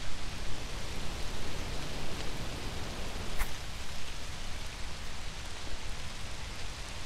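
Steady video-game rain hisses evenly throughout, a dense wash of patter with no voices, constant and moderately loud.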